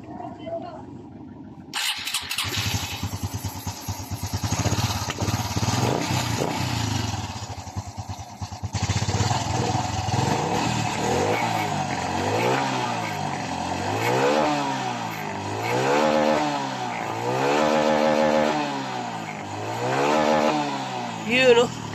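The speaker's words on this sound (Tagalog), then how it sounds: "So, paandarin na natin ang kanyang motor." A Honda XRM 125 fi motorcycle cranks and fires up, then idles and revs repeatedly in a steady rising-and-falling pattern, loud and close.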